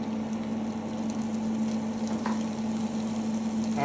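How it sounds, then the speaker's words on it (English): Bacon hits hot olive oil in a pan and fries with a dense, steady sizzle and crackle, close and continuous, with a low hum underneath and no talking. "In goes my bacon."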